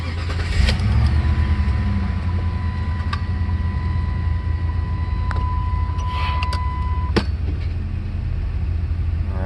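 A 1996 Jeep Grand Cherokee with a stalling problem runs with a steady low engine drone and a brief rev early on, with a few clicks and a thin tone over the idle.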